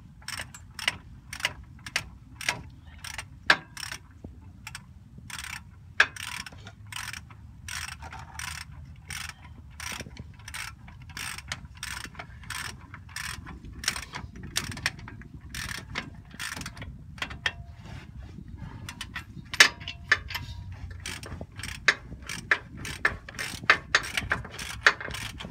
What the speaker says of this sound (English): Tighten these two bolts back on.